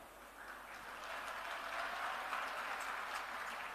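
Steady crowd applause at a political speech by Punjab Chief Minister Bhagwant Mann, an even wash of distant clapping held throughout without a break.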